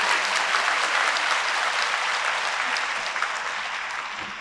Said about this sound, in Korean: 여러분 힘찬 박수로 축하해 주시면 감사하겠습니다